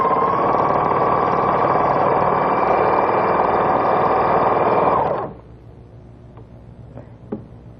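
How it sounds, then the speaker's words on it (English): A Viking Huskylock 900 serger stitches and overcasts a seam in denim, with a fast, loud, steady mechanical whir running for about five seconds and then stopping abruptly. A few faint clicks follow in the quiet. "see how fast you can really sew a seam, plus it overcasts your seam at the same time"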